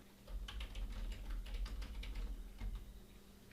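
Fast typing on a computer keyboard, a quiet run of close key clicks in quick uneven bursts over a low steady hum, with no talking.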